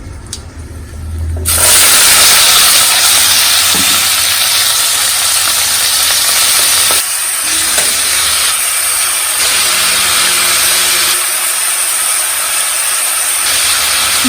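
Cumin, garlic and onion sizzle loudly in hot oil as a tempering for kadhi pakora, a sharp, steady hiss that starts abruptly and holds with small fluctuations, without any talking.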